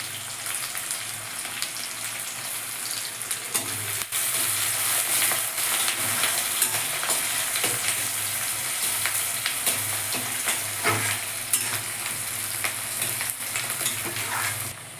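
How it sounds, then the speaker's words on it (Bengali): Chopped onions and two green chilies sizzle steadily in hot oil for a mutton curry, a continuous close frying hiss with faint stirring scrapes throughout. "বা পেঁয়াজগুলি হালকা হালকা ভাজা হয়েছে"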